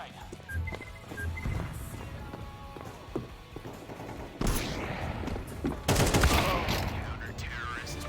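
Gunfire in a tactical shooter video game, scattered sharp single shots with a louder burst of rapid fire near the end, moderately loud, with players talking over parts of it.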